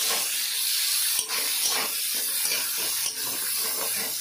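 Chopped onions frying in oil in a pan for a snakehead fish dhokla dish, a steady, loud sizzling hiss that runs the whole time with two brief dips, no voices.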